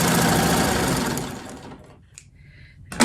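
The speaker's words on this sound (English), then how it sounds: "I'm going to sew along that line to round that corner" Sewing machine stitching fabric in a quilting session, a loud close rapid mechanical whir for about one and a half seconds that slows and stops, followed by small handling clicks.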